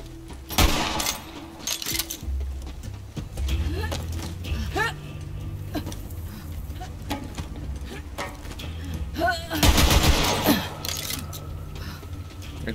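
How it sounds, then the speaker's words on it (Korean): Borderlands 3 video game gunfire crackles in scattered bursts and single shots, with a louder volley near the end, amid clicking mechanical sounds. "일단 총소리 마음에 들고."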